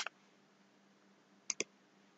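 Mouse buttons click sharply while working in Microsoft Excel 2019, a quick pair at the start and another pair near the end against a faint hum.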